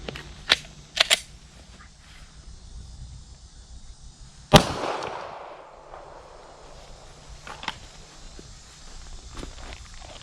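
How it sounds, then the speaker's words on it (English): A rifle shot from an AK-47 into cheap Botach soft body armour, a single sharp loud blast with a ringing decay, set among faint clicks, handling noises and footsteps outdoors. "We'll shoot it again with a 40. Shooting it again with a 40."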